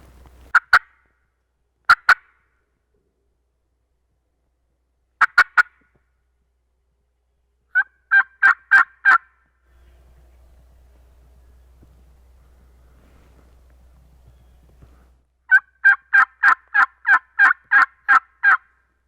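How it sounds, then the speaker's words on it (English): Short bursts of wild turkey gobbling ring out repeatedly at a distance across Iowa public land, separated by pauses, with a long stretch of low wind rumble in between. "Turkey just gobbled."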